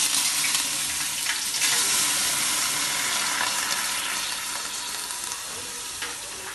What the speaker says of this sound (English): I'll be scooping some lye water and pouring it into